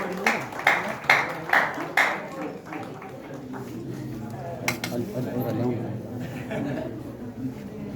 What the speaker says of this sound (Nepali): हामी आज जोरदार तालीका साथ उहाँलाई यो समय दिन्छौँ।